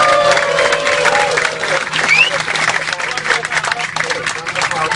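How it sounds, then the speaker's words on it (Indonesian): Applause for the flight crew aboard a passenger plane, a dense, steady wash of clapping and crowd noise lasting throughout, with voices mixed in underneath. "berikan tepuk tangan kepada awak"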